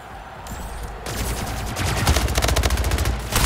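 Rapid automatic gunfire in a first-person shooter video game, dense bursts of shots that build in loudness and run almost without a break, close and harsh, with no voices over them.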